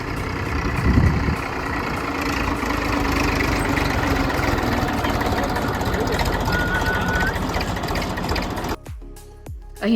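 A tractor engine runs steadily throughout, a continuous close rumbling drone that cuts off abruptly near the end, with some voices in the background.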